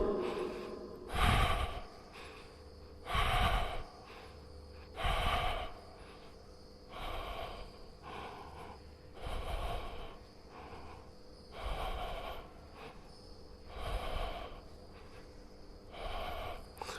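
Deep breaths in and out accompany yoga leg lifts, forceful audible breaths near the mic at a slow steady rhythm, about one every two seconds, with a faint room hum.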